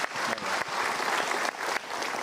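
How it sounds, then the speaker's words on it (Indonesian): Studio audience applauding a guest on an Indonesian motivational talk show, a broad steady burst of clapping with brief dips, close and fairly loud, no talk over it. "Kita berikan tepuk tangan untuk Pak."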